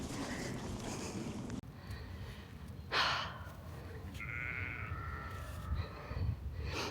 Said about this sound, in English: there is a sheep in here